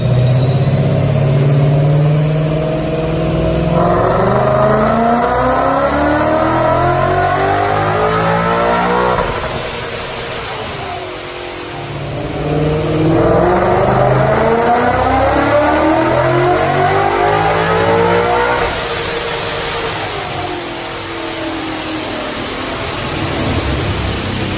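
Supercharged 2011 Ford Mustang GT with an automatic transmission and a Vortech JTB Race blower, high-mileage Coyote engine, revving hard on a chassis dyno: loud sustained pulls rising in pitch, easing off between them, with supercharger whine over the engine roar.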